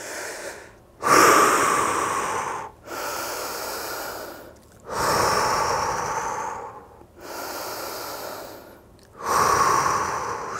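Slow, deep breaths during a held stretch repeat in a steady rhythm, each a loud airy inhale or exhale close by, separated by short quiet pauses.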